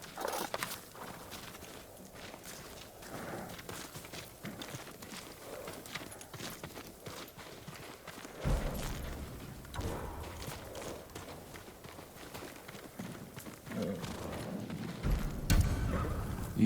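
Samurai horse hooves clip-clopping at a walk in the video game Ghost of Tsushima, a steady near rhythm of footfalls that grows louder and heavier in the second half.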